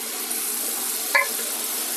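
Potato pieces fry in a pan over a gas flame, giving a steady, close broadband sizzle with one brief stir or scrape near the middle; no one speaks.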